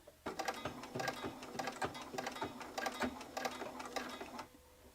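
A sewing machine stitching slowly on a vintage needle caddy, its needle clattering in an uneven run of close, clear beats for about four seconds before stopping, with no talk.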